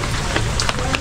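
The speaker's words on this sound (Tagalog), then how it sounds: "Umuulan eh." Steady rain falls outdoors in a dense, even hiss with a few sharper spatters, loud and close throughout with no clear talk over it.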